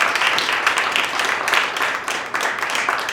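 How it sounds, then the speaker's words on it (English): Audience applause at a community roast event: a dense, continuous patter of many hands clapping, steady and fairly loud throughout. "Can we give him a round of applause, please?"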